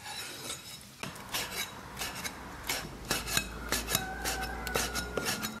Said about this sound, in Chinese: 猪肚切成片儿